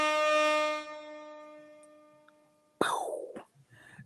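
A loud blaring air horn blast fades out, followed by a sudden burst of a second horn-like effect with a sharp swooping tail.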